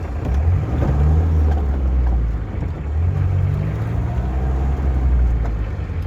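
A fully restored Hindustan Contessa with a 2.0L diesel engine drives along, its steady low engine drone rising and falling in two broad swells, loud and close throughout with no talk.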